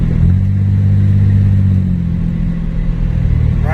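A cheap project Chevrolet S10 pickup truck drives on the road, its engine a loud, steady, close drone that carries throughout with no one speaking.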